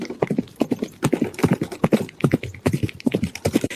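Rapid, rhythmic clip-clop of horse hooves, loud and close, hitting in quick irregular clusters without pause.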